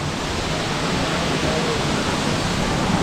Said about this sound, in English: Cascada de la Virgen.